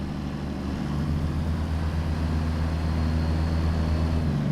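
A CAT C15 truck engine in a truck simulator game, droning low and steady after a downshift, a constant deep rumble with no talk.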